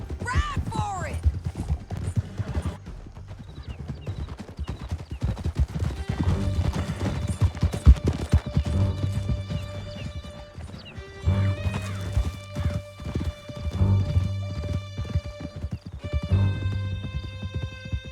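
Horses galloping hard through a canyon in Red Dead Redemption 2: rapid, rhythmic hoofbeats with a whinny, rattling tack and impacts, loud and close, with brief voices and music over them.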